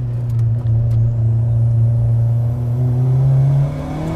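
Tuned Fiat Grande Punto Abarth with a turbocharged 420 hp engine that revs to 8200 rpm, droning loud and close at steady high revs, its pitch creeping slightly upward before easing off near the end.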